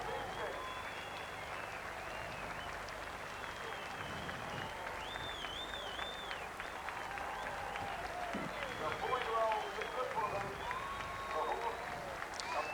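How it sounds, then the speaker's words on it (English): A large racecourse crowd at a 1988 Inter-Dominion harness racing final at Harold Park roars and cheers for the favourite as it arrives, a loud, sustained wash of voices and clapping under a race caller's commentary. "Here he comes, and listen to the roar that this crowd will give Our Maestro and J.E. Binskin."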